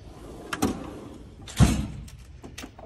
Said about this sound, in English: Next drawer.